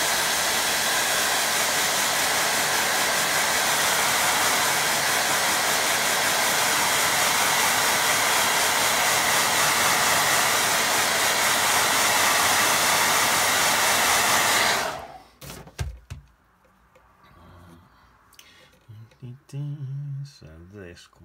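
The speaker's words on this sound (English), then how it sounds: "let me have a quick blast with dryer." A hair dryer blows loudly and steadily for about fifteen seconds, drying a watercolour painting, then shuts off, leaving quiet room sounds and a few faint knocks.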